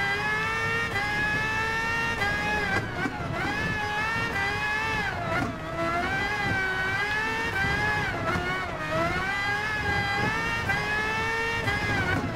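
Red Bull X2019 Competition race car in Gran Turismo Sport, a loud high-revving engine whine that climbs and drops through repeated gear changes, continuous and close.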